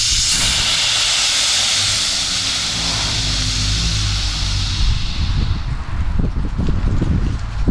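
Loud, steady hiss of pressure being released from a tint keg, a broad rushing spray of gas that fades out, followed by low knocks and handling noises.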